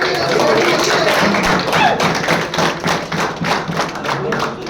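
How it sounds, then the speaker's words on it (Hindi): An audience at a prize draw event claps in a dense, continuous patter of close hand claps throughout, with thuds mixed in. "ताली बजाओ"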